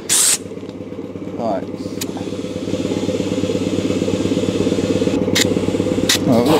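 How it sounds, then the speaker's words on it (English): Air is pumped into the tyres of an abandoned old Ford Granada Mk2 2.8 Ghia X, heard as a steady mechanical compressor chug that grows slightly louder over several seconds. Someone speaks briefly, and short clunks break in near the start and end. "Let's try and get some air in these tyres first."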